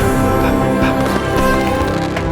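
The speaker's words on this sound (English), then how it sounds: "What does an orchestra sound like?" An orchestra plays a full, dense passage with sustained, rich harmonic layers and some soft rhythmic accents, loud and close throughout the short excerpt with no voices.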